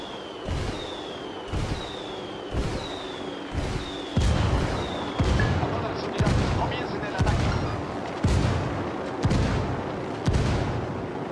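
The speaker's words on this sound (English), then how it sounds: "Call Pakatari for some mortar fire." Mortar fire support strikes land in Ghost Recon Wildlands, a series of about a dozen booming impacts arriving at a regular pace, several preceded by descending whistles of incoming rounds.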